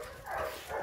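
A dog gives a couple of quick, short barks or yips, fairly faint and slightly distant.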